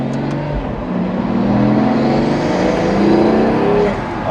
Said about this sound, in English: It's the Mercedes twin turbo V6 power plant. Oh, sorry, Mercedes twin turbo V12 power plant.